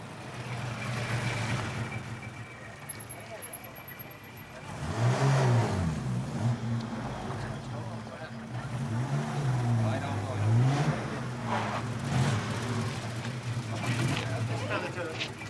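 A motor vehicle engine rumbles nearby, revving and surging a few times as it drives up and pulls in to park, with voices talking over it.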